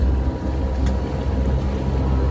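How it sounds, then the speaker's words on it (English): A sailboat's engine drones steadily while motoring downwind toward Charleston waters at dusk, a continuous low hum with water and wind noise and no talk. "Running downwind with the engine on."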